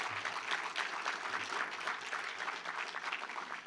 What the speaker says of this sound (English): Let's give the senator a round of applause.